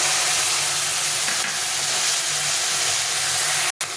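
A tomato, chilli and ginger masala, with the water used to rinse the spices, sautés in a pan for a thin pabda fish curry, giving a loud, close, unbroken hiss that cuts out briefly near the end.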